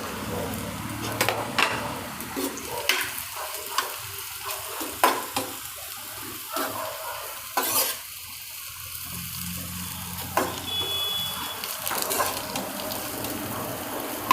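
Torn thepla pieces being stirred and fried in a pan for Gujarati chevdo, a steady close sizzle with repeated spatula scrapes and clinks, no talk over it.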